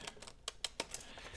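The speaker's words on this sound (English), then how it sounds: "I'm just going to go in and do a cut like that." Scissors cut paper for an envelope pocket, giving a few faint, close, crisp snips spaced unevenly in an otherwise quiet room.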